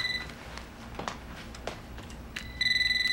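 A home telephone ringing faintly in a room, with a high electronic ring tone near the start and again louder at the end, separated by light clicks and taps.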